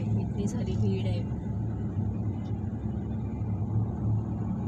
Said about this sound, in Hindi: बहुत भीड़ है गाड़ियों की।